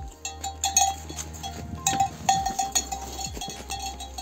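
Goats, including a mother goat, bleat in a hill village, giving scattered short calls near and far amid faint rustling and a soft bell-like clink.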